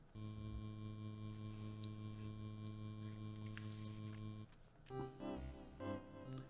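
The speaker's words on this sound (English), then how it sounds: "Press the up button and hear a faraway whirring" In the video game UFO 50, an elevator gives off a faint, steady, tonal whirring hum for several seconds, then cuts off as a brief musical jingle plays.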